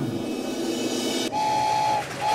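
A rumbling train from the video game Poppy Playtime rolls along steadily, and a sustained whistle tone sounds partway through over the continuous mechanical clatter, with no talking.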